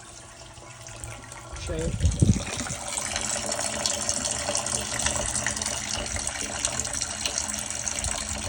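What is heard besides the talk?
water flowing from septic barrel chamber into leach tank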